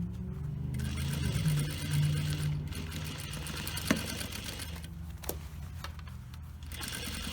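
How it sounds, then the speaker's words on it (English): A sewing machine top stitches a folded jean hem, running as a steady, close mechanical chatter of rapid needle strokes with a few brief clicks and pauses, and no talking. "we're going to top stitch right above that folded edge, and it will blend"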